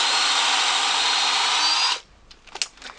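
A flat drill bores a hole through wood with a loud, steady high whine for about two seconds, then cuts off, leaving a few faint knocks and handling sounds.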